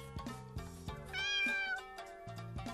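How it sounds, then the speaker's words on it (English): A cat meows clearly in the video game Kamikakushi, one drawn-out, rising meow set over looping game music with steady low notes. "Cat."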